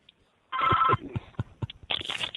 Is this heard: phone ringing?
yes